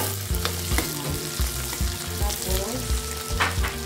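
Pork belly fries in a pan with sibuyas (onion), giving a loud, continuous sizzle with rhythmic stirring scrapes; a single brief spoken word cuts in.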